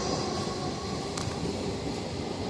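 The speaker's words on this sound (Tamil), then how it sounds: "கீழே வந்து லோக்கல் ட்ரெயின் மேலே வந்து மெட்ரோ" A local train and a metro run along the Velachery–St. Thomas Mount railway line in Chennai, giving a steady, loud rolling rumble with a brief metallic squeal partway through.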